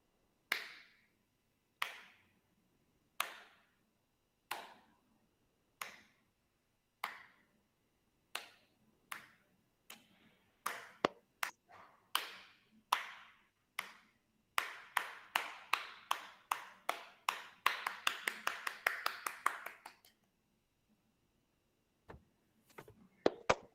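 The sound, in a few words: rhythmic hand clapping along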